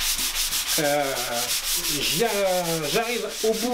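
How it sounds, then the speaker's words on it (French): Hand-sanding the finish on a Sam Maloof-style wooden stool makes quick rhythmic rasping strokes, steady and close, while someone speaks over the sanding. "Ça fait plusieurs heures que je ponce"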